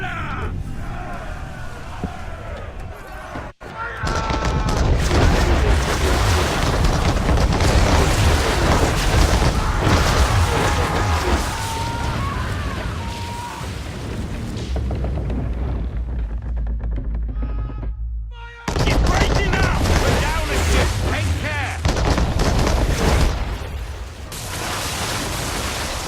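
Ship cannons boom in Assassin's Creed 3 naval combat, heavy blasts rolling under shouting crew voices, splashing water and a wash of battle noise, loud and continuous with a brief cut near the middle.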